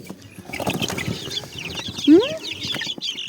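Young chickens clucking and peeping close by in a small flock, soft overlapping chirps with one louder rising call near the end, and a person's voice faintly underneath.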